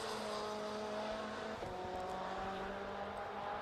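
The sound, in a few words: race car at Oulton Park time attack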